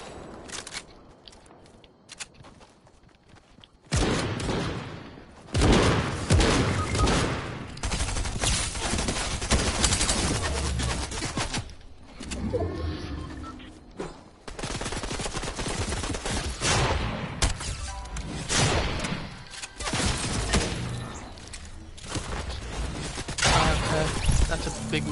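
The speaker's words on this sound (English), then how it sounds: "Oh, someone's shooting me." Rapid bursts of gunfire aimed at the player in a video game, loud sustained volleys and scattered shots over a dense, busy mix, with a person talking at times.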